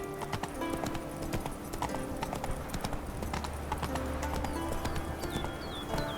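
Hooves of the horse Roach clip-clop steadily in The Witcher 3, a brisk continuous rhythm up close with an occasional whinny, game ambience and a low hum running underneath.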